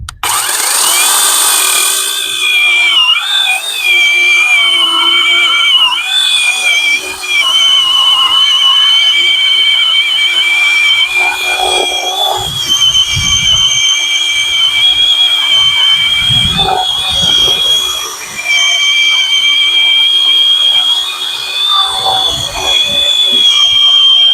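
A Procraft PKA42Li cordless chainsaw cuts through a clamped wooden trunk, its steady high electric whine running continuously for over twenty seconds with brief dips as the chain bites, fairly loud and close.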